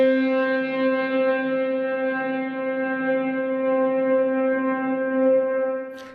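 A frozen, sustained reverb from the Baby Audio Crystalline plugin holds a steady harmonic drone, constant and loud for several seconds before tapering at the end.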